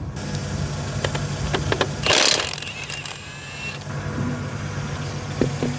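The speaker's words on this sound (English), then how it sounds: "Car's still running, got that heat going." A Nissan Silvia S15 idles in a garage with a steady low engine hum throughout, broken by a few short metallic clanks and a brief rushing burst partway through.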